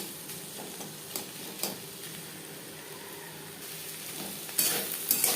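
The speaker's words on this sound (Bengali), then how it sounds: "মিডিয়াম ফ্লেমে নারকেলের সাথে কাঁকরোল তিন চার মিনিট রান্না করব" Spiny gourd fries softly with coconut in a pan over medium flame with a steady low sizzle, a few light scrapes of stirring, and louder scraping near the end.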